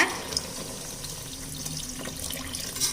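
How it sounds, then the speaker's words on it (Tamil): Tamarind water pours steadily into a cooking pot, a continuous splashing trickle with a few small clinks at the start and end. "இப்போ நம்ம கரைச்சி வச்சுருக்க புளித்தண்ணி சேர்த்துடலாங்க"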